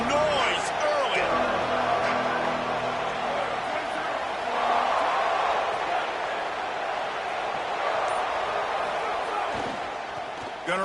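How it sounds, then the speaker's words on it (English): A packed stadium crowd at a Week 1 football game roars steadily and loudly throughout, a dense wall of cheering and noise with scattered voices rising above it. "This crowd bringing the energy and noise early."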